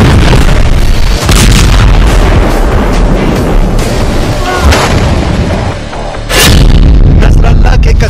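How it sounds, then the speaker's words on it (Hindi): Heavy booming blasts from a rocket attack in Israel rumble loud and dense, with rolling thunderous impacts and sharp bursts overlapping throughout, one especially strong hit near the end. "रॉकेट से दहल गया इसराइल"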